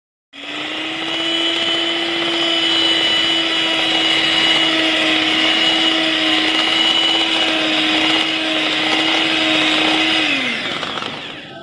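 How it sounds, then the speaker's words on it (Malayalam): An electric beater whips cream powder with milk for a black forest cake, a steady high motor whine running about ten seconds at a constant pitch, then winding down and cutting off. "ഇനി നമുക്കിത് കുറച്ച് പാലൊഴിച്ച് നല്ലതുപോലെ ബീറ്റ് ചെയ്തെടുക്കാം."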